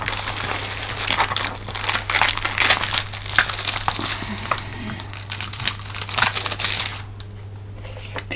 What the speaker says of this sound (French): Alors si j'enlève le plastique